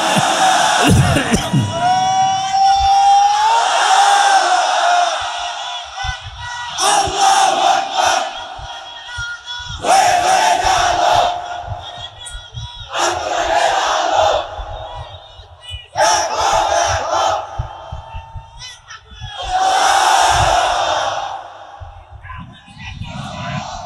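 Large crowd at a religious gathering shouting the takbir in unison, loud bursts repeating every few seconds in a call-and-response rhythm, with brief pauses between each roaring chant.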